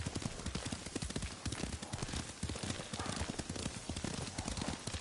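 A galloping horse in the video game Ghost of Tsushima pounds out rapid, continuous hoofbeats, loud and close throughout with dense rustling overhead.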